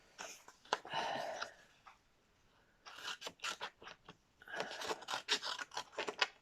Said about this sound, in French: des petits ciseaux que j'ai trouvé avec Cultura, ils vont super bien